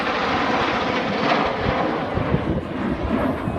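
Red Arrows display jets at the Biggin Hill air show, flying in line astern: a steady, loud roar of jet engines fills the whole stretch with no pause, slightly rough in tone as the formation swings through the sky.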